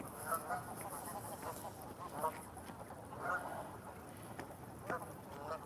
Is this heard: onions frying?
no